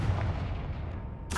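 A Confringo blasting spell from the Hogwarts Legacy video game goes off as a dense, heavy boom that rumbles through the whole clip, then ends with a brighter burst.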